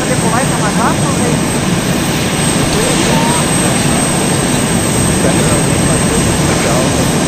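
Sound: jet aircraft engine taking off in DayZ video game

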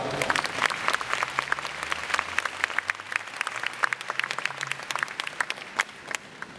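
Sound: audience applause

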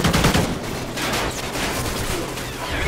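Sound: sentry gun firing in video game Call of Duty: Ghosts

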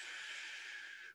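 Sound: person imitating snoring

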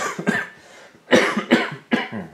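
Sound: cough

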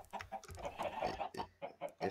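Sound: chickens clucking in a Minecraft-style video game

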